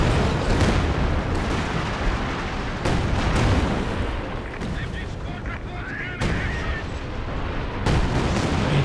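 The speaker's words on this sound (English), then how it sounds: "Major artillery down there, it sounds like." Artillery fire and explosions in a Company of Heroes 2 3v3 battle, with heavy booming blasts at irregular intervals over a constant rumble of gunfire and battle noise.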